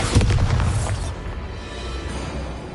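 A Bombarda blasting spell in Hogwarts Legacy going off as a deep, heavy boom with rumbling debris that decays into a lingering low tail, loud and without talk.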